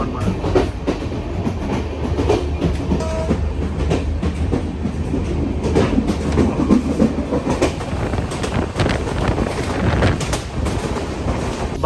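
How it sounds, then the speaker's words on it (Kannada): A train in Bangladesh runs over noisy tracks, giving a loud, steady rumble with rhythmic clickety-clack of wheels on rail joints throughout, close and continuous. "ಬಾಂಗ್ಲಾದೇಶ ಟ್ರೈನ್ ಟ್ರ್ಯಾಕ್ಸ್ ಎಲ್ಲ ಒಂಥರ ತುಂಬಾ ನಾಯ್ಸಿ ಫೀಲ್ ಆಗ್ತಿದೆ"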